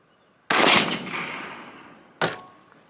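Two sharp, loud outdoor shots from a GLOCK 21C pistol firing Remington .45 ACP ammunition, the first followed by a long echoing tail, then a second blast about two seconds later.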